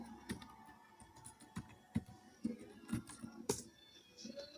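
Someone types on a computer keyboard in a quiet room: soft, irregular key clicks and taps spaced through the clip, faint and close with no voices.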